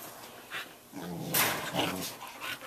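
Dogs growling and barking, a larger dog playing roughly with two small red-haired dogs, in short bursts of snarls and yips at close range with no talk over them.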